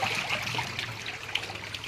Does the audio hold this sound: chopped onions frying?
no